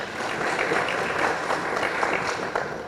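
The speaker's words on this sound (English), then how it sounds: "Can we give them a round of applause?" Audience at the Uganda Police Force annual crime report event applauding the report directors, with steady, dense clapping sustained throughout at an even level.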